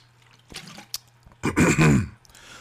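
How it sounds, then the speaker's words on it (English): A person takes a sip of water, with a small clink and a few faint slurping sounds followed by a louder gulp and throat-clearing noise, close to the microphone in a quiet room. "If I gotta drink a little water because my voice gets dry, who cares? Just like right now."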